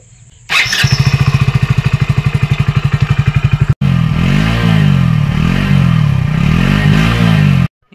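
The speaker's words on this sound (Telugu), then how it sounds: "ఈ బైక్ సౌండ్ ఒకసారి వినండి." A Hero Passion Plus 2025 motorcycle engine starts up and idles with a loud, steady, close put-put pulse for about three seconds, then after a brief gap it runs on with a rougher, rising and falling revving drone, with no one talking.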